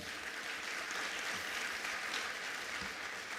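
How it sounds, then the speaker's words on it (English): An audience claps for the Director General at a ministerial announcement of exam results, a fairly quiet, even patter of many hands that continues throughout. "Let's give our Director General another round of applause."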